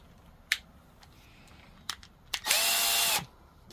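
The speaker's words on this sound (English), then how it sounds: "Now let's put her on the drill." A power drill with a jammed Makita keyless chuck adapter whirs briefly for under a second, rising and winding down, after a few sharp clicks and taps nearby.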